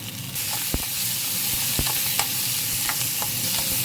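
Cumin, dried red chillies, onions, garlic and curry leaves sizzle and crackle steadily in hot oil, with a spoon scraping and stirring in the pan now and then.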